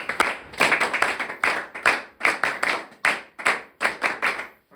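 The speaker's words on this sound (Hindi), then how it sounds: "तो एक बार प्रदीप के लिए फिर तालियां।" A crowd claps in a series of loud, uneven bursts, each swelling then fading in rapid succession, close and lively with no voices.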